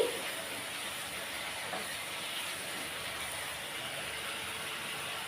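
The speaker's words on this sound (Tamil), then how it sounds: "இப்போ ரெண்டு நிமிஷம் நல்லா கொதிச்சிருச்சு" Constant hissing and low bubbling of a thick egg masala gravy boiling in a pan, steady and close throughout.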